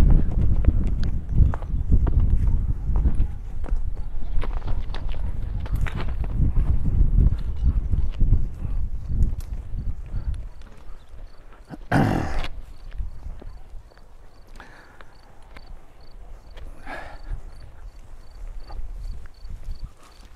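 A camel walks slowly down a slope on a farm in Krasnodar Krai, its soft plodding footfalls loudest at first, then fading, with a voice speaking briefly partway through.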